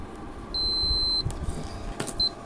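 A continuity tester beeps while a switch on a 1951 Revere T-100 reel-to-reel recorder is checked. One sustained high tone lasts most of a second, and a shorter beep follows against a quiet background.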